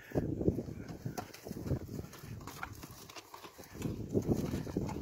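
Horse trotting during roping training, with a rope on the saddle horn, its hooves making rhythmic clip-clop beats amid outdoor ambience.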